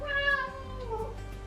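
A kitten gives a drawn-out, wavering meow close by, followed by a shorter second cry, heard over a low background hum with no talking.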